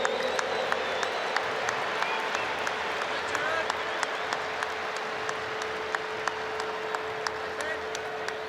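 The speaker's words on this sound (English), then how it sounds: "Give them a warm round of applause." Stadium crowd at the 2015 NRL Grand Final between the Broncos and Cowboys applauding steadily, a dense, sustained wash of clapping with a faint continuous tone underneath and occasional louder individual claps.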